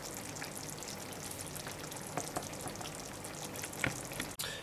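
Homemade tomato sauce with garlic, salt, pepper, spices and herbs simmers in a pan for a chickpea and potato curry, making a soft, low bubbling and faint sizzle with a few small pops and no voices.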